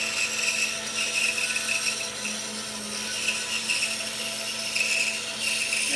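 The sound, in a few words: saw cutting through a log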